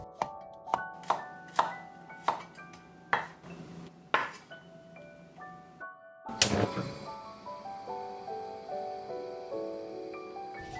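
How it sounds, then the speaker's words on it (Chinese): A knife slicing a head of garlic into thin pieces on a board, about eight crisp, evenly spaced cuts followed by a sharp metallic clatter and ringing as the tools are set down. "蒜用1头，切成片"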